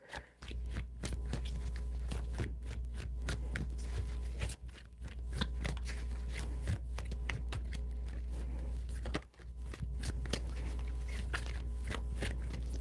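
Tarot cards riffle and slap in a steady, close run of quick papery shuffles, with two short pauses, heard alone against a low constant hum.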